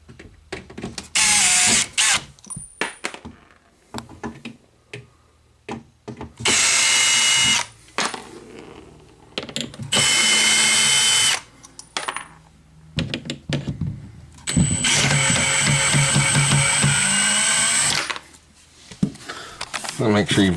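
Power drill backing screws out of a Suburban water heater access panel in an RV closet, several short whirring bursts separated by pauses, with someone talking between them and small screws clinking.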